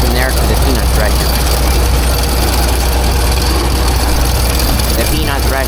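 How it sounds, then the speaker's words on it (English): A Farmall tractor engine drives a peanut thresher by a long belt at an antique agricultural show, a loud, steady low mechanical drone with constant rumble and rattle, and brief voices breaking through near the start and end. "The way the peanut thresher gets its power is from a belt that is run by this farm-all tractor."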